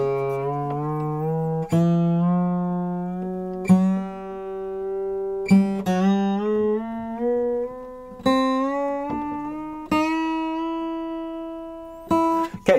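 An acoustic guitar freshly fitted with new strings is roughly tuned, with single plucked notes ringing out clearly about every two seconds as their pitch is adjusted upward, close and alone.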